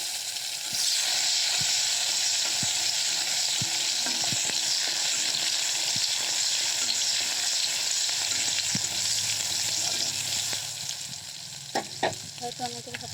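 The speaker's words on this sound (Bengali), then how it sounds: "টমেটোটা এত ভাজা ভাজা হয়ে যাচ্ছে" Chopped tomatoes fry with black cumin seeds in a wood-fire-blackened kadai, giving a loud, steady sizzle and hiss that runs throughout, with occasional stirring clicks and scrapes and a slight easing near the end.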